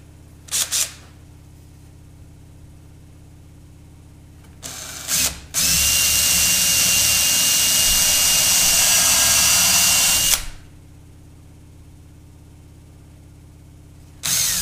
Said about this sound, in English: I'm going to put a pilot hole in this and countersink through this